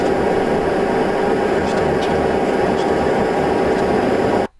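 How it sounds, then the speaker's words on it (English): Steady, loud broadband engine roar and hum inside an airplane cabin while taxiing, continuous and unchanging, cutting off abruptly at the end. "So I'm sitting on an airplane taxi."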